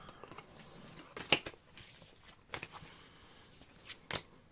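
Tarot cards shuffled by hand, a few quiet riffling bursts and soft slaps spaced irregularly, close and faint in an otherwise quiet room.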